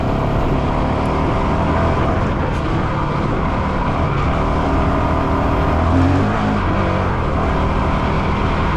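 A motorcycle engine drones steadily and loud throughout a ride on a trail, a continuous close roar with slight swells in pitch and no talk over it.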